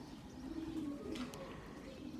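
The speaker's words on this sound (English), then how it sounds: "Pigeons are flying well." Pigeons at a racing loft give soft, low cooing calls that run steadily through the whole stretch at a moderate distance, with a brief higher chirp near the middle and no one talking.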